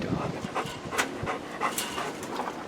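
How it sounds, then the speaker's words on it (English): A dog behind a gate pants rapidly and close by in short rhythmic breaths, with a brief whimper, while people talk nearby. "There's a dog in that gate."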